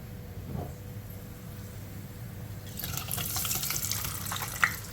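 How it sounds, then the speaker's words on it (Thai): Hot frying oil from pork cracklings poured through a strainer, a soft liquid trickle that grows into a steady splashing pour halfway through, with a small clink near the end. "เดี๋ยวเราจะไปกรองน้ำมันออกกันนะครับ"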